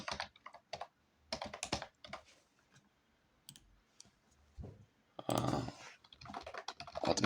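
An IP address is typed on a computer keyboard in quick, clear bursts of key clicks separated by pauses, close and distinct, ending in a denser flurry of keystrokes.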